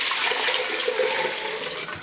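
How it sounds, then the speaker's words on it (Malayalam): Rice-washing water is poured into a pressure cooker in a kitchen, a steady close splashing pour lasting the whole moment with no speech. "കുക്കറിലേക്ക് നമ്മൾ ഈ വെള്ളം ഒഴിച്ചു കൊടുക്കുക."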